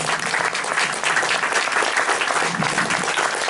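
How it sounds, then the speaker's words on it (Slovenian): A church congregation at Kurešček in Slovenia breaks into full, steady applause, dense clapping from many hands throughout with no voices standing out. "Let's give God a round of applause."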